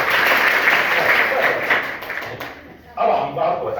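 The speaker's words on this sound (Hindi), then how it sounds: "एक बार बच्चे के लिए जोरदार ताली।" Applause and clapping for a child, dense and steady at first, fading briefly before a short renewed burst near the end.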